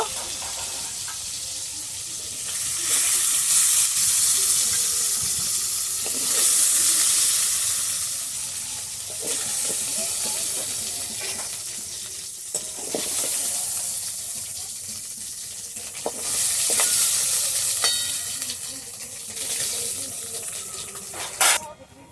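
Snakehead (shol) fish lightly frying in hot oil in a wok, the sizzle and spatter swelling and fading in waves with occasional kitchen clatter.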